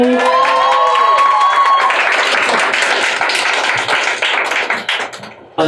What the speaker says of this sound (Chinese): 我们掌声欢迎乔瑟夫。